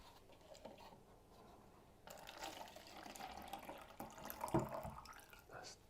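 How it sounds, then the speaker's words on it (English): Cups are rinsed under a running kitchen tap. After a quiet start, the water gushes and splashes steadily, with a few brief clinks and faint background sounds mixed in. "what we'll do is we'll rinse these out"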